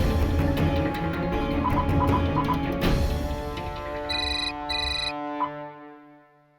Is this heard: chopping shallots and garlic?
no